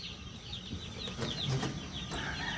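Young chicks peep in a cluster of short, high chirps at close range, with a soft fowl cluck and faint rustling beneath, steady and continuous with no talking.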